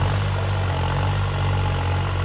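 A New Holland tractor engine idles steadily close by, a deep continuous diesel rumble with a low throb and no voices over it.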